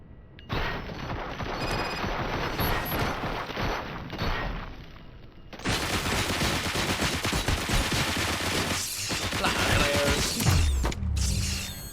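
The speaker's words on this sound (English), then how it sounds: "Fire at will." Robocop: Rogue City battle with dense, sustained gunfire and mechanical clatter, loud and close, a short lull before a louder burst of shooting that runs to the end.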